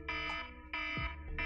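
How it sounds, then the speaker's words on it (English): A small alarm beeps in repeated tonal bursts, each roughly half a second long with short gaps between them, sounding loud and close, with a low hum underneath and no voices. "Little alarm going off there."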